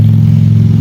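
A BMW R nineT motorcycle engine runs loud and close with a steady low idle rumble, throbbing evenly without clear revving in the brief moment, no voices.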